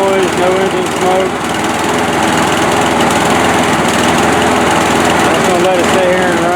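A Murray Quantum lawn mower engine runs steadily with a buzzing, vibrating drone, continuous and fairly loud throughout, with no pauses.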